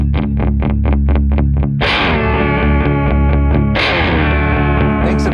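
Mirror House V2 guitar effects pedal in Shift Mode set to a tritone interval: a quick run of evenly spaced plucked distorted notes, then two loud sustained shimmering chords that ring out with pitch-shifted harmonics.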